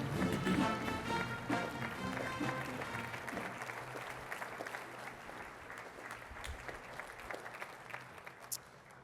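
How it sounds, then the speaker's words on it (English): A luncheon audience at a Good Scout Award event gives a sustained standing ovation, dense clapping that starts loud and slowly thins over about nine seconds, with a few cheers mixed in. "Let's stand on our feet and give him a big round of applause,"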